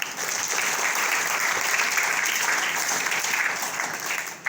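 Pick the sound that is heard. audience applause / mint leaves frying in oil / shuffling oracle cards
audience applause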